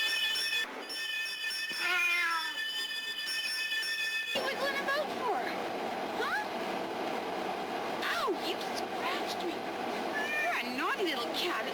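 A cat meows several times in a row, with a rising and falling, somewhat plaintive tone. It is heard close by against a steady background hum, and someone talks over parts of it.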